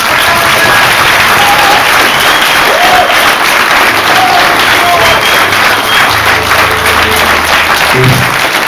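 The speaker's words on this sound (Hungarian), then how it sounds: "Nagy tapsot Lehel!" A festival crowd at the 2014 Szélrózsa Festival in Budaörs gives loud, sustained applause throughout, with whistles and cheering voices mixed in.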